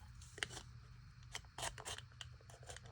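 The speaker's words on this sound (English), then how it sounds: "I'm just going to go with my X-Acto knife just to get that first cut in there" An X-Acto knife cuts into plastic in a few faint, short scraping strokes over a low background hum.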